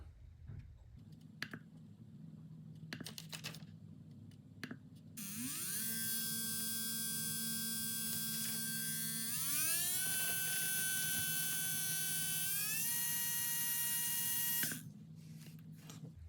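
An overheated Trinity 25.5T brushless RC motor spinning on a test bench gives a high electric whine that rises in steps across several speeds, preceded by a few clicks and a low hum, then cuts off abruptly.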